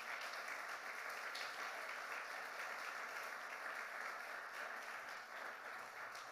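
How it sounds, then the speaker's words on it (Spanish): Church congregation applauding the Lord during a sermon on supernatural prayer, continuous distant-sounding clapping at fairly low volume, sustained without voices. "Dale un aplauso al Señor bien fuerte."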